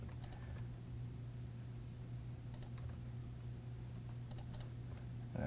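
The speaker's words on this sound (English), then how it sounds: "it's actually just by pressing the W on your keyboard" A computer keyboard being typed on, several sharp clicky key presses in small clusters against a steady low hum, close and fairly quiet, with no talking.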